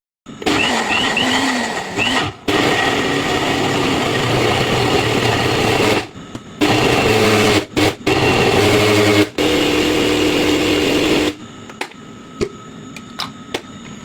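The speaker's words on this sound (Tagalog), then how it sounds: "Then blender ko ito hanggang maging pino." A blender purees a hotdog meat mixture with cornstarch and cold water, its steady, loud mechanical whir running in bursts, stopping and restarting several times before a few faint clicks at the end.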